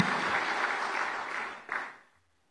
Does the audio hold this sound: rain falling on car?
no